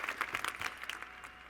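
Audience applause in a large convention hall at a national FFA gathering, a dense patter of many hands clapping at moderate distance, steady for a second or so before thinning out.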